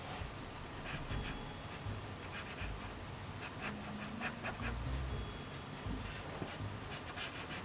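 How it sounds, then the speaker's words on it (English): A pencil sketches a figure's chest on paper in quick scratchy strokes, a run of short rubbing and scraping bursts with small pauses, close and soft, with no talking. "I'm gonna go ahead and draw a little bit of a chest in here"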